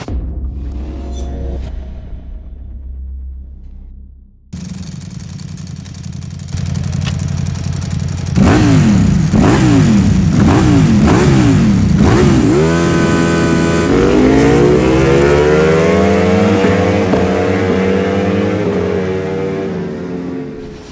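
A 2023 Ducati V4R motorcycle engine starts after a quieter idle, then settles into a loud, close idle broken by a series of sharp throttle blips and rising revs that climb and fall repeatedly.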